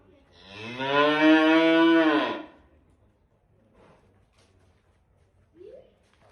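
A hybrid heifer lets out one long, loud, drawn-out moo close by, followed by quiet shuffling and a brief faint squeak.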